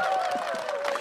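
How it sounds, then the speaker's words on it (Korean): Audience applause at a Democratic Party talk show honoring a veteran YTN news anchor: a short burst of steady clapping from the crowd with a sustained voice-like tone running over it. "박수 한번 보내주셔야죠."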